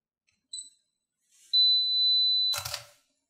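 Two short beeps from a Fujifilm X-T3 self-timer, then a long steady tone, ending in a crisp mechanical shutter click in an otherwise quiet room.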